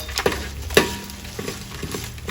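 Cashew nuts tumble into a hot pan of oil for curd rice, giving a short close sizzle with a couple of sharp stirring clicks that settle into a steady low frying hiss.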